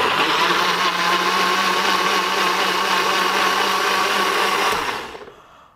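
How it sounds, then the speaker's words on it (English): A loud blender powered from a Honda e electric car roars steadily for about five seconds, then winds down and fades to silence. "Happens to be connected to my blender."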